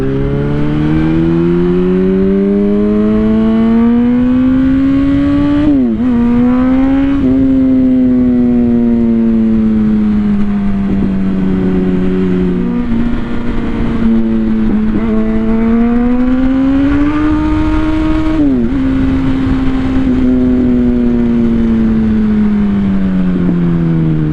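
Motorcycle accelerating through heavy traffic, its engine droning loud and continuous, pitch climbing through several gear shifts with short drops between, heavy wind noise close by the whole time.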